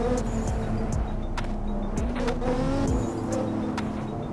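Race car driving in the sim racing game Assetto Corsa, its engine droning loudly and continuously with shifting revs and repeated sharp upshift pops throughout, no voices.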